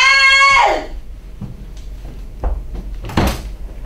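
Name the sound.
jammed door being pulled and rattled, stage sound effect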